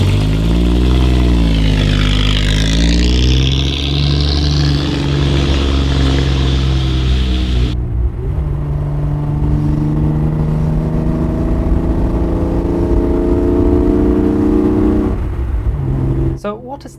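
A classic Triumph TR6 revs up and accelerates along a road, the engine note rising through gears with loud, continuous mid-pitched droning and a brief shift partway through, heard from close by inside or near the car.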